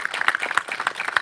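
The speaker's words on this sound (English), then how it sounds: "let's give them another round of applause" Brief round of applause from an audience at a gun violence prevention awareness event, scattered individual claps audible in an uneven rhythm, moderately close and fairly light.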